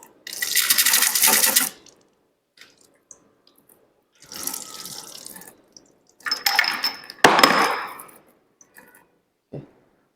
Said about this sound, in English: and then you can just run cold water on top.